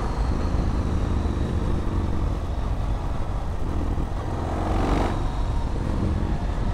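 A 2005 Yamaha MT-01 with its 1670 cc V-twin runs with a loud, steady rumble that fills the whole stretch, and a brief rise in pitch comes near the end.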